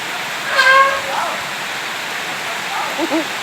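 Steady rain hisses in a broad, even wash, with faint voices briefly rising above it.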